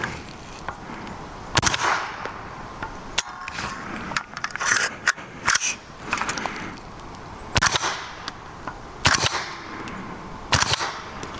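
A 300 Blackout rifle with a radial delayed action, suppressed by a large dedicated 30-caliber can, fires five sharp, muffled shots at irregular intervals, each a brief crack standing out against quiet background hiss.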